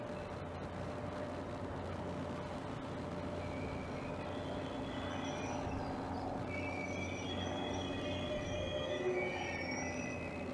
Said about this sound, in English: And now arriving in is one Foxtrot 36 the 1440 Southeastern service from St Pancras International to Faversham